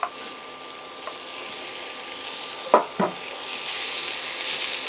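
Chicken tumbles into a hot pan already holding capsicum and onion, a brief clatter and splash giving way to a steady, rising sizzle of frying, close and alone with no talk.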